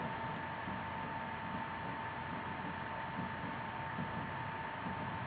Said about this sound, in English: I don't know if you guys can hear the rain right now.